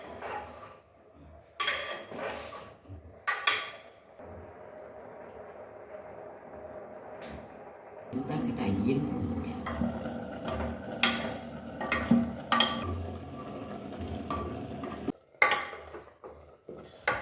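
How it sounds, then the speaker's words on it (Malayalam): Tapioca and black chickpeas are stirred in a cooking pot, with scattered metal clinks and scrapes, quiet stretches between them and a denser rumbling stir in the middle, all close by. "അതൊക്കെ നന്നാക്കി ഒന്ന് ഇളക്കി കൊടുക്കുക."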